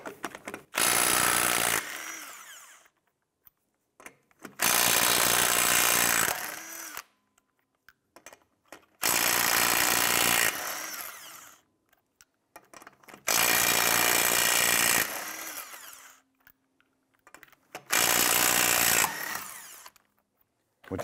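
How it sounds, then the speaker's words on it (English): A power wrench with a 19 mm socket spins lug nuts off the rear wheel of a 2005–2007 Ford Five Hundred in five loud, close bursts, each two to three seconds long, separated by silence. "Using your 19 millimeter socket, loosen and remove the lug nuts."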